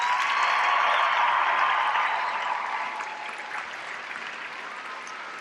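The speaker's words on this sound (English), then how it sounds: "let's go ahead and give a round of applause for our nation's colors." Sustained crowd applause at a US Air Force basic training coin and retreat ceremony, honoring the national colors; a broad, even roar of clapping from a large outdoor audience that gradually fades somewhat.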